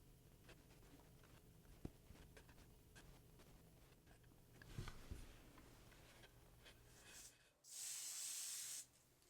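A spray can of black base paint is sprayed onto the paper wrap of a 1/45 scale Estes Little Joe II model rocket, with a quiet workshop background ending in a loud, steady hiss lasting about a second.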